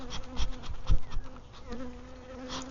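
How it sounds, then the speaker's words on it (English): Honey bees buzz at an open Wisconsin beehive with a honey super during a slow nectar flow, a close, steady drone with individual bees swooping near the microphone and some handling bumps, no talking. "Just trying to get that little bee away from my microphone, which they love."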